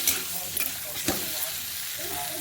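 A spiced curry base cooking with turmeric and salt in a pan, a close steady sizzle broken by a few quick stirring scrapes.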